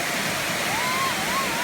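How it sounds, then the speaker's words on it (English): Mackenzie waterfall in the Grampians, Australia, pours in a steady, loud, broadband roar that never lets up, with a faint whistle-like tone drifting over it. "This is the Mackenzie waterfall somewhere in Ballarat area"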